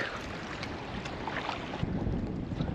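Wind blowing over open water on Baffin Bay during pedal-drive kayak fishing, a continuous moderate rushing hiss with soft buffeting and no talking.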